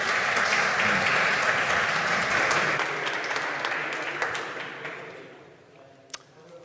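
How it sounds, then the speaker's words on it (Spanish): An audience at a university workshop in Zaragoza applauds the speaker Santiago, a loud, dense burst of clapping that gradually thins out and fades over several seconds. "Un aplauso, por favor, para Santiago."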